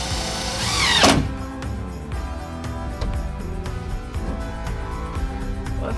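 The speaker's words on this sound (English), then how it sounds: "got some more of these 1" by 1" angle brackets. And we're using a 5/8 screw because we don't want to go through the plywood." A power drill drives 5/8-inch screws through 1-by-1-inch angle brackets into plywood on a van bed platform: a loud whirring burst near the start, then a steady mechanical hum with short repeated pulses close by.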